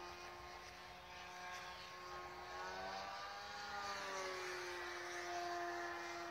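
A Blitz RC Sorceress radio-controlled plane flying aerobatics overhead, its electric motor and propeller giving a thin, sustained whine that shifts in pitch as it banks and passes, at moderate distance with no talk.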